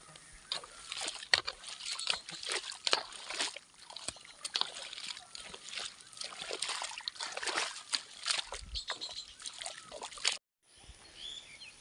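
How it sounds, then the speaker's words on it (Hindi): Water flows steadily into a flooded rice paddy in a hillside village during planting season, a continuous trickling and sloshing that stays close and fairly loud for about ten seconds before cutting off abruptly. "अब तेजी से भर रहा है खेत में पानी"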